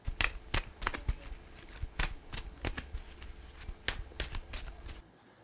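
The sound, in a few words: shuffling playing cards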